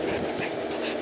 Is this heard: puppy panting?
yes